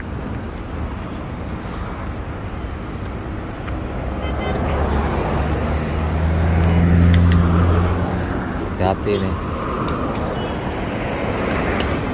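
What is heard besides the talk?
traffic on a jammed road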